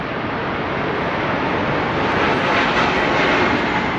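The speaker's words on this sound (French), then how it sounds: "On dirait l'avion passe là" Fixed-wing airplane passing overhead, a steady broad engine roar swelling slightly, heard from a car interior with no talk during the pass.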